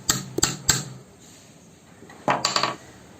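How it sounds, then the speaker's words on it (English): A screw or rod tapping a mixer grinder jar coupler down onto its shaft, giving sharp metallic clicks: a few quick taps at the start, a pause, then another quick cluster of taps. "tap the center like so that the coupler seats properly into the shaft"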